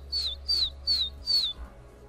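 A person whistles in imitation of a baby bird, four short, high, downward-sliding chirps spaced evenly at about half-second intervals, clear and close over a faint low hum.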